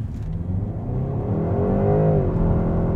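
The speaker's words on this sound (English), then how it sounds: "I'm gonna launch it without launch control, but I'm still gonna brake boost launch it" A BMW 128ti launched hard from a brake boost, its engine roaring up through the revs and pulling continuously with a rising whine, loud and close, with no talk over it.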